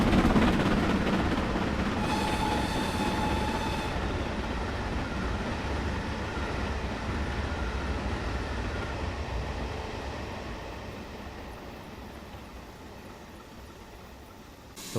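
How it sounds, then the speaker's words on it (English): A steam engine hauling a passenger train rolls past in a steady, loud rushing rumble that slowly fades as it moves away, with a brief whistle-like tone near the start. "Defiant rolled by with a passenger train."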